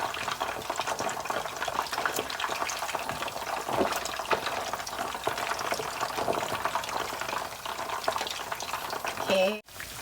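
Three large snakeskin gourami fish (pla salid) fry together in hot oil, with a dense, continuous crackling sizzle and bubbling throughout. A short clatter comes near the end, and nobody speaks.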